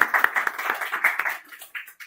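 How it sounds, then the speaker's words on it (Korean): Audience clapping at a coaching and consultant business lecture, a short burst of scattered hand claps that thins out and fades within about two seconds, with no voices over it. "박수 한번 부탁합니다."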